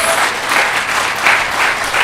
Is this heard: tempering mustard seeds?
no